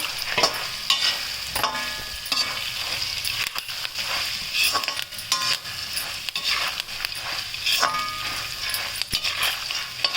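Curry leaves sizzle and crackle while frying in hot oil for ragi avalakki churumuri, a steady close hiss with scattered sharp pops and occasional stirring scrapes.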